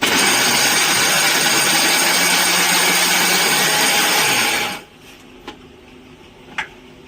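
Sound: grinding fried puris in a grinder for laddoo

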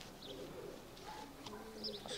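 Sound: pigeon cooing

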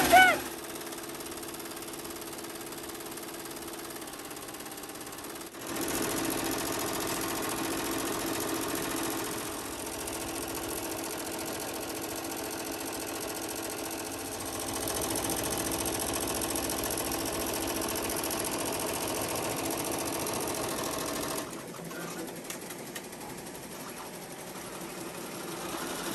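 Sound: Happy Japan HCU embroidery machine stitching at 1,050 stitches per minute

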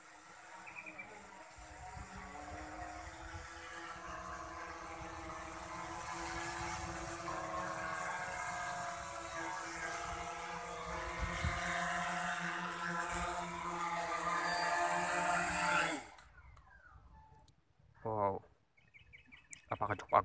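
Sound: Bayangtoys X21 drone landing by return-to-home

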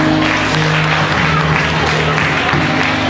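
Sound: audience applause at a graduation ceremony

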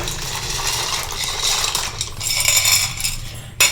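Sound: dry pasta added to pot

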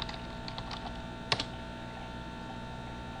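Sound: typing login information on a computer keyboard

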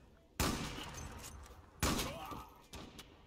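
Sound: AWP sniper rifle shot in Zula video game

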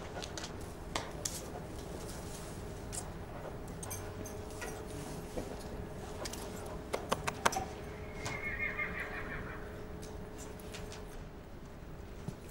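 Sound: horses neighing at a ranch

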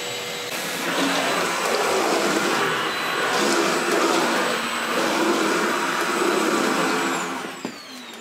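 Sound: Milwaukee M18 Fuel backpack vacuum running

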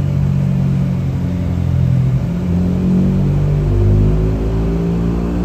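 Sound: Yamaha Y15 motorcycle engine revving on a dyno run

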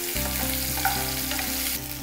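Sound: chicken pieces frying with salt and pepper

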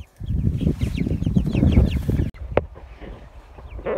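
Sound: broiler chickens clucking on the farm

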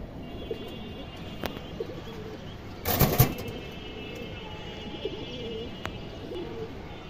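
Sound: female pigeons cooing

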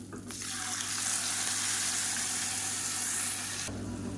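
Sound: ground chutney poured into hot tempering, sizzling

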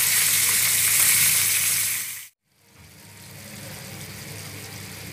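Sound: minced meat (keema) frying in a pan

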